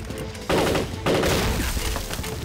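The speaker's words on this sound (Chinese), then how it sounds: "开枪！" Gunfire in a Chinese TV war drama: two loud bursts of shots, the second following the first about half a second later, with a steady rattle between them and ringing on after.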